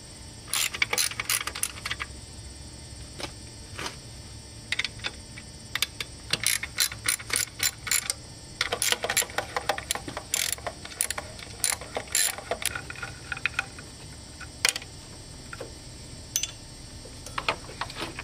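Ratchet wrench loosening the main crank pulley bolt on a Subaru engine during timing belt tensioner work: quick bursts of ratcheting clicks repeat in uneven spurts with short pauses, close and fairly loud, with no talking.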